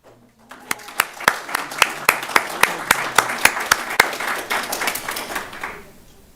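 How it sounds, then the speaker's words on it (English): Students from Little Rock Southwest High School at a superintendent's citation ceremony receive a round of applause, starting with a few distinct, evenly spaced claps that swell into a steady, full crowd clapping before fading out. "Let's give these students a nice round of applause"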